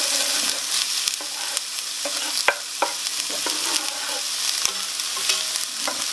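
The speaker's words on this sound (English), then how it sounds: "That's a good old sizzle." Black bean chilli sizzles and crackles steadily in a hot oiled frying pan, close and loud, with occasional sharp clicks as it is stirred.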